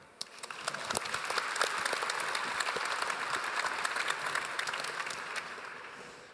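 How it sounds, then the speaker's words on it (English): A conference crowd claps steadily for a panel for several seconds, a dense patter of hands that swells briefly and then tapers off toward the end. "a huge round of applause for the panel"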